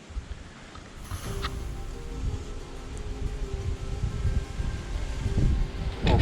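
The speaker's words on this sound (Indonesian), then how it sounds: "Oke, datang lagi anginnya." Wind gusts at the Cikahuripan mountain spring, a soft rushing that builds and swells over several seconds, moderately distant and steady with a faint low rumble, no voices.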